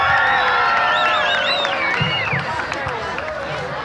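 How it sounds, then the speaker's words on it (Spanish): Crowd at a Valencia nightclub show cheers, whoops and claps to welcome a DJ, loud and lively, with whistles and shouts rising over a busy wash of noise and music in the background. "¡El aplauso para él!"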